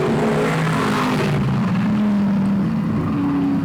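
Vintage modified race cars roar down the backstretch of an oval track, a loud sustained engine drone with shifting pitch as the pack passes close by.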